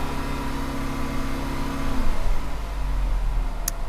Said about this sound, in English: Just give a little bit of gas for a minute.